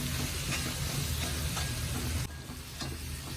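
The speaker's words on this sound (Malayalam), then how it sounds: "ഇതിന്റെ പച്ചമണം പോകണം നന്നായിട്ട് മൂക്കണം" Masala frying in hot oil in a pan for a squid masala, a steady close sizzle with faint stirring scrapes and no talk.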